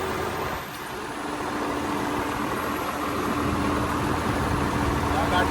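A Holland tractor fitted with a turbo runs at a steady idle, its engine drone broad and continuous and close, with a faint high whistle riding over it and low voices in the background.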